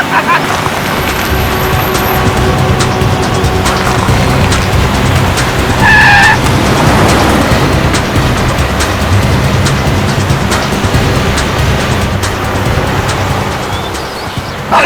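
A car speeds during a police drama chase scene, its engine roaring continuously and loudly, with a brief skid or tire squeal partway through.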